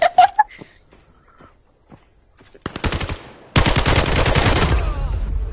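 Automatic weapon gunfire in a VR shooting video game, starting after a quiet stretch with some faint voices, then breaking into rapid, loud, sustained bursts of shots that continue steadily to the end.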